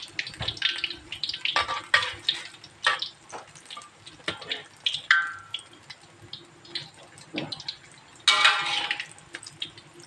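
Masala vadai fry in oil, crackling and spattering in uneven bursts, with occasional louder pops and splashy surges, close by and fairly quiet.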